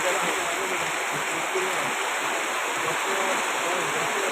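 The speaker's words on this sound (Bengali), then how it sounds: "মুষলধারে বৃষ্টি হচ্ছে।" A heavy downpour at Charfassion roars as a steady, continuous rushing wash, loud and close throughout with no pauses or distinct drops.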